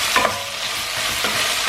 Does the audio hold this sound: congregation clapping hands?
no